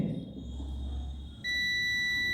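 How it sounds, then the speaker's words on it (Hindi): A continuity tester touched to the brown earthing wire of a reverse parking sensor coupler on a small commercial vehicle gives a sudden steady high beep that holds continuously after low workshop rumble. "तो बीप का आवाज़ आ रहा है, इसका मतलब इसको भी प्रॉपर बॉडी अर्थिंग मिल रहा है।"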